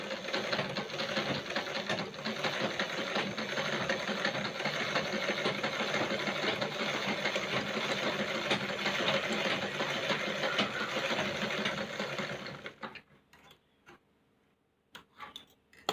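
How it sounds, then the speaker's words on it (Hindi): A Pico sewing machine runs a zigzag stitch steadily and loudly for about twelve seconds, a rapid even clatter, then stops, leaving faint clicks. "देखो ये मेरा जिगजैग वाला स्टिचिंग चल रहा है।"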